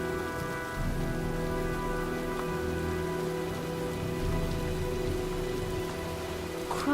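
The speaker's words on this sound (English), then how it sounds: "looks like a storm's coming" Steady heavy rain from a storm in the video game Heavy Rain, a dense, even hiss of drops on surfaces that continues unbroken, with a low rumble underneath.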